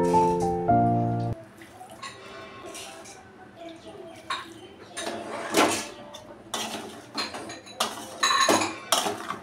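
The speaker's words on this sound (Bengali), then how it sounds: "আর আমি মাখাতে থাকবো আচারটা।" Raw mango pickle being stirred with oil in a metal pot, giving irregular close scrapes and clinks of a utensil against the pot, preceded by a short tonal beep at the start.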